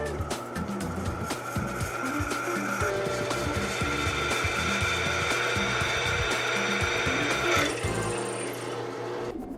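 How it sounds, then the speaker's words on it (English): A power drill bores holes in a metal flywheel, a loud, continuous whirring grind that stays close and steady for several seconds, with some clanking of the tool and workpiece throughout. "Now it's time to drill."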